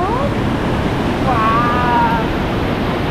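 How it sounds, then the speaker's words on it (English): Waterfall at Second Forks Falls in Cape Breton, rushing in the rain as a loud, steady broadband roar, with a brief whistle-like tone over it. "We made it to the waterfall."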